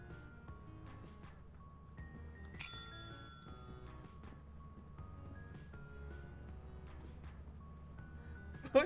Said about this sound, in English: Oh, you pressed the bell.